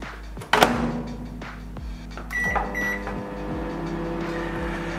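A household microwave oven runs with a steady low hum, starting with a sharp clunk of the door or switch, followed by a constant droning buzz with occasional clicks.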